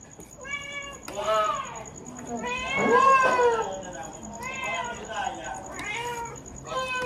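A cat meows repeatedly while being fed indoors, several drawn-out, wavering cries coming close and clear in a steady series, with a faint background whine.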